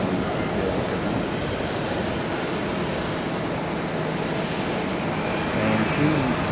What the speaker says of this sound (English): Looks like we've got the Shanghai Airlines pushback as well.